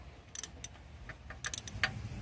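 A ratchet clicks in short bursts while bolts come off the exhaust manifold of a BMW E46, with a few sharp metallic ticks scattered over a quiet background.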